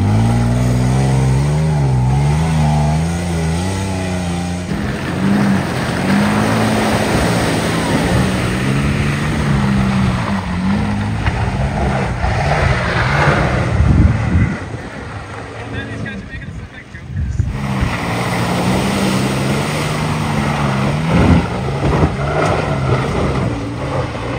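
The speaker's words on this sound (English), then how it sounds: "We arrived at the hill climb obstacle where Travis gives it a shot" An off-road vehicle's engine labors up a hill-climb obstacle on the Whipsaw Trail in heavy rain, rumbling loudly as its revs rise and fall, with wind buffeting the microphone throughout and a brief dip near the end.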